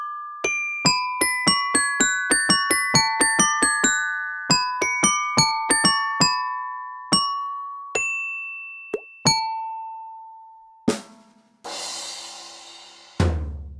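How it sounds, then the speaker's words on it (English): Xylophone notes from a kids' alphabet app, a quick run of bright struck bars in an irregular melodic rhythm, ringing clearly alone before a longer tone and a burst of noise at the end. "Xylophone."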